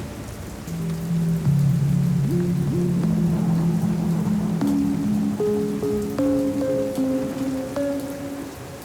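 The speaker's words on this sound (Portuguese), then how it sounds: "A chuva caía pesada, tamborilando no telhado como dedos impacientes." Heavy rain drums on a roof, a loud continuous patter close by, while low sustained musical tones drift underneath and slowly rise in pitch.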